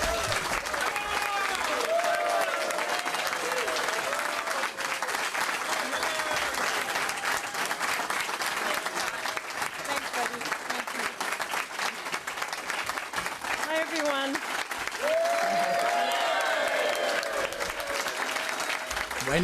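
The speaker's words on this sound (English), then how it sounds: "When have you ever seen a Liberal get that type of applause?" Sustained, loud audience applause with cheering fills a large hall as people welcome Canadian opposition leader Candice Bergen, the clapping steady and dense throughout with crowd voices mixed in.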